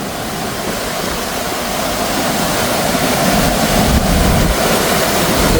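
Water gushing over the Muthaiyankattu reservoir spillway in a steady, loud roar, thick and continuous, with no voices over it.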